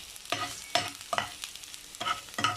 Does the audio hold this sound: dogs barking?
no